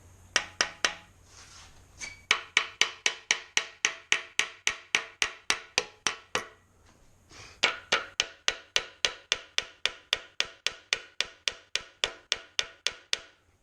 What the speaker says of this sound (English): let's start with baby hammer, see what it does